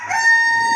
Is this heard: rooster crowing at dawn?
yes